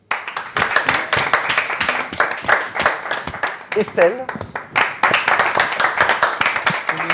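An audience at a dinner event in Chambéry claps steadily through the whole stretch, the patter sitting under a person speaking over it.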